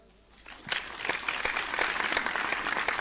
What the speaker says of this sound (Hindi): इनके स्वागत में सब लोग तालियां बजा देंगे थोड़े सा।